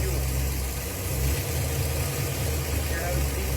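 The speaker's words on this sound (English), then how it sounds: "Listen to the engine when I just fired some fuel." A Ford Galaxie engine runs at a steady close idle with a deep rumbling drone after a carburettor pump shot, speeding up only slightly and without a distinct rev, while someone talks over it.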